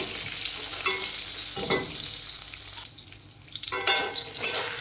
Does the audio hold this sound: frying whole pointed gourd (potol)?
yes